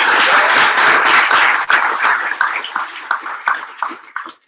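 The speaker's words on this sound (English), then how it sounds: "Round of applause, please." Audience applause after a talk at a Java user group meetup, loud dense clapping that stays strong for about two seconds, then thins to scattered individual claps before fading out.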